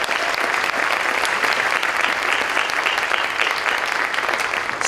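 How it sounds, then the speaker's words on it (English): An audience at a school concert band performance claps steadily and loudly, a dense, even wash of applause that holds for several seconds with no talking over it. "Can we give her another round of applause"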